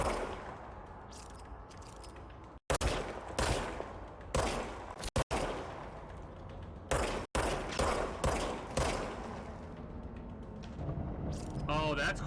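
Service weapon gunfire in the video game Control, repeated loud bursts of shots in rapid volleys with short pauses between them, mixed with game effects and a voice talking over it.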